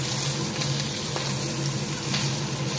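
Sage grouse tenderloins sizzle in about a tablespoon of olive oil in a pan, a loud, steady crackling fry that runs close and unbroken throughout.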